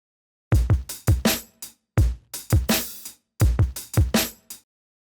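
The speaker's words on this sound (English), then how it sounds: "Of course, it's pitched up," Short punchy snare hits from a hip-hop loop in a choppy loop, bright and snappy with a high, pitched-up tone, repeating in irregular bursts with brief gaps.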